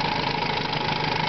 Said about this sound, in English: the only kind of motor that even comes close to idling like this are the old Johnsons from the 50s